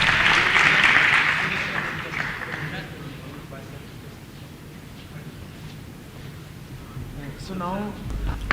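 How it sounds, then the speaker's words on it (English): Audience applause for a panel on pushing electric vehicles into the Indian market at an IIT Delhi event, loudest at the start and then fading to a lower murmur, with a voice speaking near the end. "Another clap for the audience."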